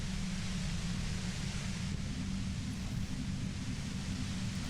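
Steady, hissing white noise from the Disco Elysium video game fills the whole stretch, loud and unchanging, with no voices.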